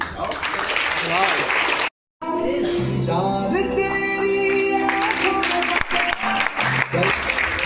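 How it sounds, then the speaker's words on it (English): Audience at an English-speaking academy champions' congratulation ceremony claps in a loud, continuous round, broken by a short dropout, with music and a voice sounding over the middle. "Please give him a round of applause, please."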